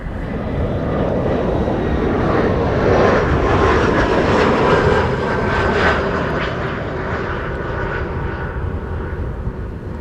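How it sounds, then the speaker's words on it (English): A KLM Embraer 175 airliner on landing approach at Amsterdam Schiphol roars loudly and steadily throughout, with a whining engine tone that swells near the middle and stays close and strong to the end. "KLM flight 1068 arriving from Southampton. Embraer 175 coming in."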